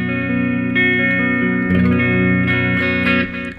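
Electric guitar played through a Jekyll & Hyde overdrive distortion pedal into a Fender Twin Reverb amplifier, a loud sustained distorted chord ringing with a dense harmonic buzz, alone and steady before fading slightly at the end.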